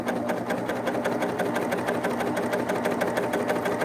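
A Baby Lock sewing machine stitches down couched yarn guided by a cording foot, running as a steady, close, rapid mechanical chatter throughout, with no talk over it.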